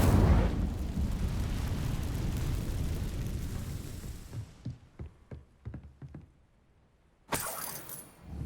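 Hogwarts Legacy's Incendio fire spell bursts with a loud roaring whoosh that fades into scattered crackles and pops, then a sharp bright flare of sound near the end; no voices.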